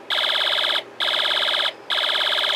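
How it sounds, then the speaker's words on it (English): A Snap Circuits alarm IC sounds a loud electronic alarm tone in three repeated bursts separated by short gaps, buzzy and harmonic-rich, with no talk. "We get our little machine gun laser sound effect. The middle portion gives us our siren."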